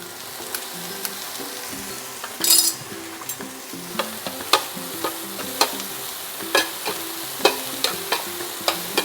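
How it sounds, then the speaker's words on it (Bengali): Vegetables with black pepper and coriander leaves shallow-frying lightly in a pan for an English breakfast, a steady close sizzle broken by frequent sharp clinks and scrapes of a utensil stirring, with a brief hiss burst early on. "হালকা একটু ফ্রাই করে নেব"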